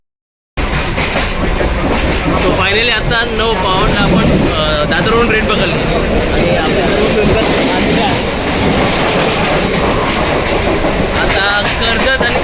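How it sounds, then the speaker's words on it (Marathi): A fast Mumbai suburban local train bound for Karjat roars along with rhythmic clickety-clack of wheels over rail joints, loud and close, with voices chattering underneath. "लोकल नऊ वाजून चव्वेचाळीस मिनिटांची कर्जतला जाणारी जलद लोकल आहे"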